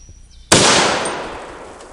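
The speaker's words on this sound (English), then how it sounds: "AK-50 test fire, first round with the 3-inch extension on the gas system." A single loud AK-50 rifle shot cracks out, fired with a 3-inch extension on the gas system, a sharp close blast that decays over about a second and a half after a brief quiet lead-in.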